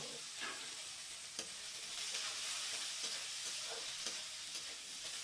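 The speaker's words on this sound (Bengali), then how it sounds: "আর এই কুচনো পেঁয়াজগুলো দিয়ে দিলাম।" Chopped onions sizzle and crackle in hot oil for Potol Chingri, with whole dried chilli, cumin and a bay leaf tempered in the pan; a steady, close hiss with occasional stirring scrapes, no voices.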